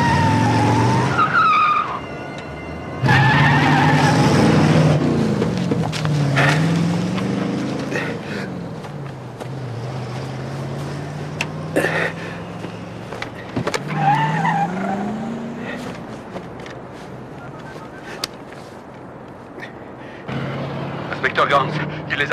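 A car engine roars as the vehicle speeds, with tires squealing and skidding in long sweeping tones while voices shout over it.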